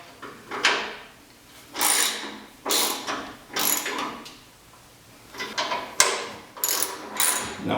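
A ratchet wrench tightens bolts on a 2021-2024 Ford Bronco modular bumper during an install, giving repeated short rasping clicks in about nine bursts with brief pauses between them, close up and with no talk.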